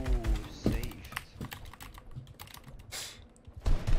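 A gamer's computer keyboard clatters in quick, crisp keystrokes, close and fairly quiet, with irregular bursts and short pauses during play.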